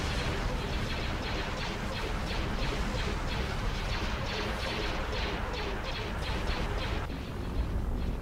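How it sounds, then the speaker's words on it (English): Ion cannon firing in a Star Wars space strategy game, a loud continuous barrage of repeated blasts and booms in a rhythmic pulsing pattern over heavy battle noise. "Ion cannon firing."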